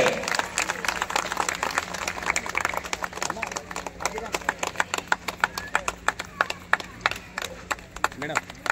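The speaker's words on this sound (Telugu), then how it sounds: "గట్టిగా చప్పట్లు కొట్టాలి." Audience clapping at a community felicitation and swearing-in ceremony in Sircilla, a dense burst of applause that thins into scattered individual claps, with faint voices underneath.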